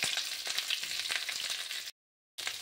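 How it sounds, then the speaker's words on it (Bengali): Cauliflower and potato pieces frying in oil over a medium gas flame give a loud, steady, close hiss and sizzle that cuts off briefly and then resumes. "গ্যাসের ফ্লেমটা মিডিয়ামে রেখে ভাজাটা ভালোভাবে করে নেবেন"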